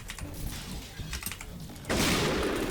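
Rapid gunfire from a Honey Badger rifle in PUBG crackles in short bursts, then erupts into a louder, sustained volley that runs to the end.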